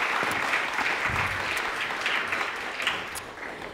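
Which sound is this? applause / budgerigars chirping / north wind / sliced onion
applause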